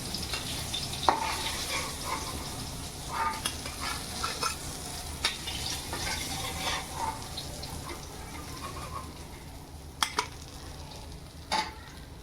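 Karli fish crisp-frying in a pan, a steady loud sizzle running throughout with occasional sharper pops and light scraping of a utensil, no voices.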